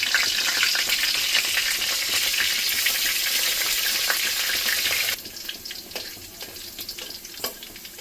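Bay leaf, cumin and spices frying in hot oil in a pan where potatoes were fried, a loud dense sizzle that abruptly drops to a quieter crackle with a few clinks, close up and without speech.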